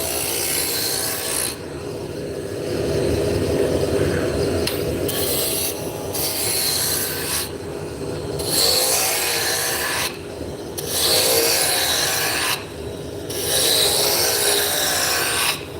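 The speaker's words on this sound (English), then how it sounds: "I'm just using a roughing gouge just to bring the diameters down." A roughing gouge turns wood on a lathe, bringing the diameters down. Loud, steady rasping cuts come in bursts of several seconds, separated by brief pauses where the tool lifts off. No one speaks.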